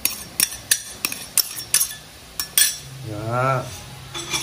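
Metal utensil stirring fish sauce, sugar and MSG into dried fish in a bowl, repeated sharp clinks and scrapes, followed by a brief spoken word.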